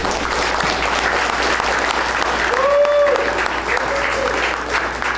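An audience at a comedy roast of Santa claps continuously in a full, even wash of applause, with a brief whistle or cheer rising above the clapping around the middle.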